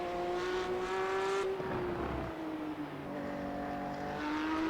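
A race car at Suzuka holds a steady engine tone, drops in pitch as it shifts into third, then climbs again under acceleration, loud and close throughout.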